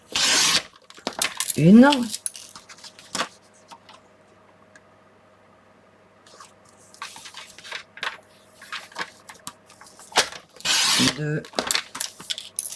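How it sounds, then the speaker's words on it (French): Strips of paper are cut for a pop-up scrapbook album, with sharp snips and rustling heard in bursts, some clicking between, and a person counting aloud in between the cuts. "je coupe sur la barre des pouces en dessous, qui est là. Et donc, je vais en découper 6."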